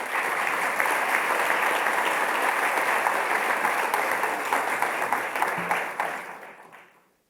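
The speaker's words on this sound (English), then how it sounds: "Another round of applause, please." Sustained audience applause at an official opening ceremony after a carnival performance, a dense, loud wash of clapping holding steady before fading out near the end.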